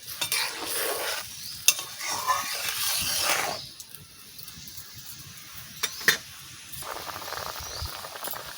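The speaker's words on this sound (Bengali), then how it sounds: "এইবারটা নাড়াই দিচ্ছি" A spiced magur catfish curry with potatoes is stirred in a pan, giving steady scraping and sizzling that swell and ease over several seconds, with a few sharp utensil clicks in between.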